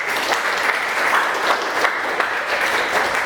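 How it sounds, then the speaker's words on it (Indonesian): Pupils clap together in a classroom at the end of a morning lesson, a close, lively burst of applause that stays fairly even from start to finish with no talking over it. "mari kita tepuk tangan buat kita semua."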